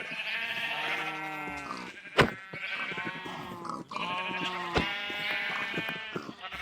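Sheep bleating in a village farming video game, several loud overlapping bleats over a continuous stretch, with a couple of sharp clicks between calls and no talking.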